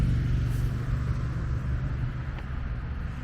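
Road traffic passing beneath the Saint-Bénézet Bridge in Avignon, France, heard as a steady low rumble of cars, continuous and moderately distant throughout, with no talk.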